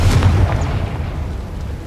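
In Hogwarts Legacy, a Confringo blasting spell explodes with a single loud low boom near the start that rumbles and fades over about two seconds.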